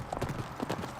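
Faint, steady hoofbeats from horses on a Native American prayer horse ride across rural northern Nevada, heard at a distance under a wash of outdoor background noise.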